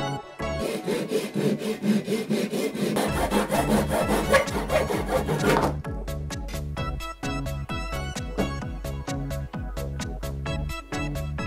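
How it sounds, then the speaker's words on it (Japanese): A PVC pipe is cut with a hand saw in steady back-and-forth strokes. The rasping is dense and fast at first, then slows into evenly spaced, distinct strokes, loud and close with no talk. "この寸法で塩ビパイプを切っていきます。"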